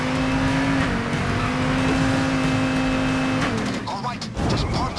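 A car engine in Payday 2 drones at a steady, loud hum, then shifts pitch and rumbles as the car maneuvers, while a person talks over it.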